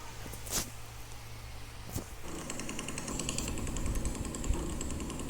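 A motorcycle engine runs close by; after a couple of sharp knocks, a buzzing, revving engine note rises in and grows louder toward the end.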